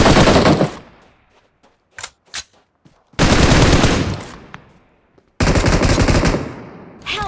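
BGMI gameplay gunfire comes as loud bursts of rapid automatic fire, separated by short gaps with a few single shots between the bursts.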